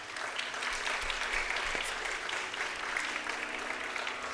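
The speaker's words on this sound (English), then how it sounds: "Let us give Rahi a big round of applause as she begins Pushpanjali" Audience clapping steadily at a Bharatanatyam dance recital, a continuous even round of applause from a seated crowd, moderately distant and fairly quiet.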